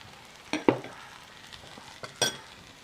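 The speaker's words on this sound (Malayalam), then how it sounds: "ഇതൊന്ന് ചേർത്ത് നമുക്ക് നന്നായിട്ടൊന്ന് വഴറ്റിയെടുക്കാം" Chicken sautéing with chilli, turmeric and coriander powder gives a soft background sizzle, punctuated by a few sharp scrapes and clinks of a spoon stirring against the pan.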